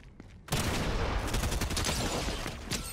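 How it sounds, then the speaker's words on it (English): After a brief quiet moment, loud sustained gunfire erupts in Fortnite as a bot opens fire, a rapid fusillade of overlapping shots continuing steadily and close. "Someone's shooting at me, and it's a bot"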